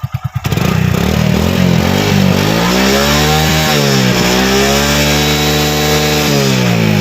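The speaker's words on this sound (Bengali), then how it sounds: "ইঞ্জিনের আওয়াজটা দেখতে পাচ্ছেন মোবিলটা দীর্ঘদিন মানে বেশ কিছু কিলোমিটার চালানো হয়ে গেছে" A motorcycle engine running on old, long-used oil idles loudly up close, its rough, rattling drone wavering in pitch as the revs dip and rise.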